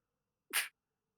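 A single sharp sneeze bursts out close by in a quiet room during a tabletop role-playing session, one short loud explosive blast with silence before and after.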